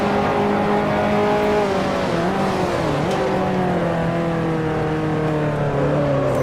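Several 1955 Formula One race cars in Grand Prix Legends, engines droning loud and close with a sustained rising-and-falling howl as they streak toward the first turn, pitch dipping briefly mid-way.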